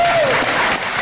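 A rally crowd claps steadily throughout, a dense continuous wash of applause that stays loud for the whole moment, with no clear voice above it.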